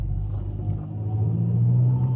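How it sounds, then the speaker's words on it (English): A warm car engine runs with a steady low rumble, and a dull knocking comes from the exhaust, which loosens as it heats, after a Corksport rear engine mount install; nobody speaks. "As soon as it gets warm, the exhaust starts knocking."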